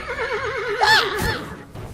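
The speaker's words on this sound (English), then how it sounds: "Stupid horse, that entrance was almost perfect." A horse gives a loud, close whinny, a wavering high neigh that rises and breaks into a shrill peak before trailing off, in an animated fantasy scene.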